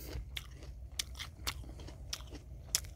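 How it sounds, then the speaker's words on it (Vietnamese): Someone repeatedly bites into and chews a cold Taiwanese apple freshly picked in 9-degree weather, producing sharp, crisp crunches at irregular intervals with wet chewing between them, close to the ear. "ăn quả táo buổi sáng buốt răng"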